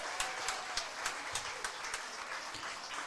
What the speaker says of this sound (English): Let's give Addie a nice big round of applause.